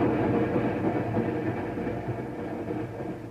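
Train wheels run along the rails in a radio-drama sound effect, a continuous rolling rumble with a faint rhythmic clatter that carries steadily through and fades slightly toward the end, with no talking over it.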